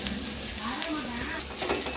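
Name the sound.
stirring grated coconut in a pan for coconut burfi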